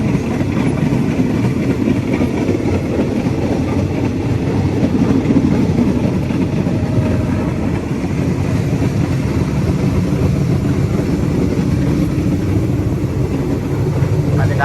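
Continuous low rumble and rattle of an old Thai train rolling along the tracks from Ban Laem to Mae Klong, heard from inside a carriage with a steady droning engine underneath.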